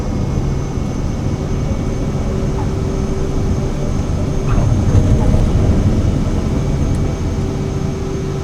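Airliner in Microsoft Flight Simulator 2024 climbing out after takeoff from Copenhagen bound for Amsterdam, a steady, loud engine roar with a constant hum running throughout and a slight swell in the middle.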